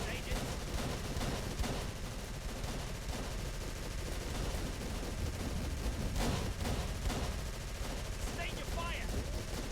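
Dense, continuous covering gunfire from squad rifles and machine guns rattles in Call of Cthulhu: Dark Corners of the Earth, loud and unbroken throughout, with faint voices mixed underneath.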